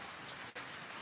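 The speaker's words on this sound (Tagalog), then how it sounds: "Ang lakas ng ulan dito guys, ilang araw lang umuulan" Heavy rain pours steadily during a rainy spell, a dense, even hiss of drops on surfaces that holds through the short stretch with one brief dip in the middle.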